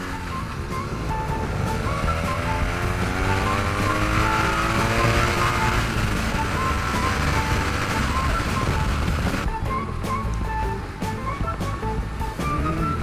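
A Honda CBR400RR motorcycle rides along an open road. Its exhaust note rises and falls through repeated rev sweeps, loud and continuous, with wind rush and a short throttle lift near the end.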